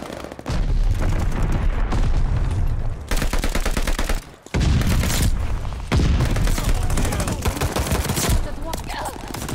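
Heavy explosions and rapid gunfire from a friendly bombing run in a World War shooter game, loud and dense with continuous blasts and booms that briefly drop out around the middle before resuming at full intensity.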